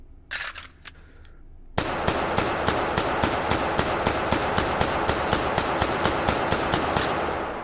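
A Five-seveN pistol fires tracer rounds in the H3VR game, opening with a couple of isolated shots and then settling into a long, fast, evenly spaced string of loud, close gunfire.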